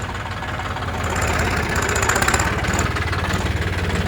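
A fully modified Sonalika tractor engine idles steadily nearby, a low chugging rumble with a regular knocking pulse that grows slightly louder midway.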